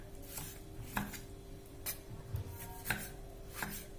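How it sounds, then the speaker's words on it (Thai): Eggplant being sliced with a knife on a cutting board, a series of sharp chopping taps at an irregular rhythm about once a second, close and fairly faint. "เราจะนำมะเขือของเราเนี่ย มาแฉลบอย่างนี้นะคะ ฝานไปฝานมาค่ะ"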